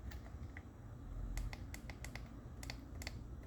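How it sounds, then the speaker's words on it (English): The clickable analog sticks of a GameCube controller fitted with an 8Bitdo wireless modkit are pressed several times, giving sharp, small plastic clicks, some in quick pairs, close-up over a faint background hum. "With this modkit, the sticks are now clickable."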